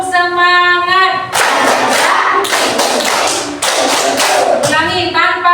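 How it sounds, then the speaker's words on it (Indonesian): A class of students claps in a rhythmic chant, a loud burst of clapping in several blocks separated by short gaps, framed by a teacher's speech before and after. "Mulai, tepuk semangat."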